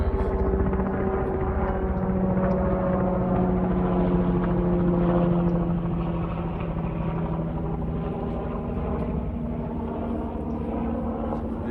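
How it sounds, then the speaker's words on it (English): A helicopter's steady rotor drone rumbles throughout, loud and sustained, swelling slightly midway then easing as it moves off; no talking. "I'll wait for this helicopter to pass."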